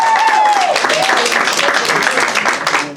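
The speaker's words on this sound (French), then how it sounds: "on acclame pour Bernadette" Guests at a civil wedding applaud and cheer for Bernadette, a burst of clapping mixed with voices and whoops that starts strong and tapers slightly toward the end.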